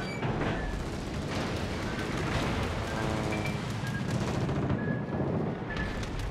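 Armor-piercing warship artillery fire in World of Warships makes a dense, continuous rumbling barrage of booms and blasts, loud and unbroken throughout, with scattered sharper reports layered on top.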